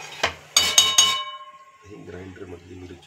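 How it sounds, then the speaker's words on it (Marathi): Peanuts tip into a metal pan of green chillies being roasted dry, giving a few sharp clinks and rattles, then softer scraping and stirring as they settle. "आता हे सगळे शेंगदाणे मी आता एकत्रच टाकतो."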